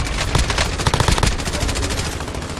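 Gunfire in the video game Resident Evil 3, a loud burst of rapid automatic shots followed by scattered reports, up close.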